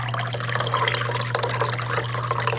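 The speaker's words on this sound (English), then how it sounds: "I have my anyday deep dish filled with water." Tap water running and filling an Anyday deep dish in a kitchen, a steady close splashing flow with a low hum underneath, no talking.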